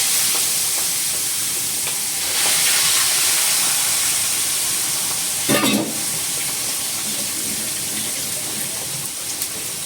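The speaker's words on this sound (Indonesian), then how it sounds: "sekarang kita mau masak ikannya teman-teman" Fish coated in flour frying in a home kitchen pan, a steady loud sizzle throughout with a brief burst of hissing and spatter partway through, no talking.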